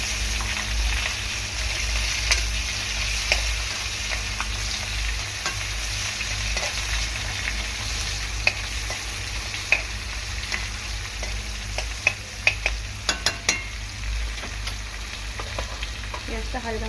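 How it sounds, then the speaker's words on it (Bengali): Chopped onions frying lightly in a pan after cumin seeds were tempered in hot oil, a steady soft sizzle with occasional scrapes and taps of a stirring spoon, close and continuous with no talk. "পেঁয়াজটা হালকা করে ভেজে নিই।"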